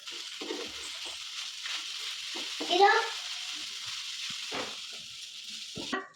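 Leftover idli frying in a pan with salt, stirred now and then: a steady sizzling hiss runs throughout, with soft scraping strokes and a brief louder flare near the middle.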